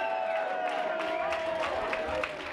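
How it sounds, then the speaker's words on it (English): Audience at a live tribute show applauding and cheering for the band, a steady wash of clapping with scattered whoops, held sustained tones from the stage ringing underneath. "Give it up for the band, y'all."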